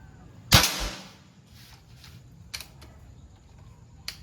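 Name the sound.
air gun pellet shot hitting black steel plate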